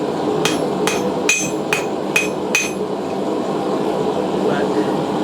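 Six sharp metallic hammer strikes ring out at an even pace as a railroad spike is forged into a knife on an anvil, then stop, leaving a steady background hum.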